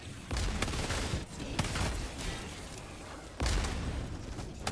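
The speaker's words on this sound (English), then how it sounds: "So I just decided to shoot." Sustained, dense gunfire from shooting in Helldivers 2, a continuous loud barrage of rapid shots with a brief dip before it surges again.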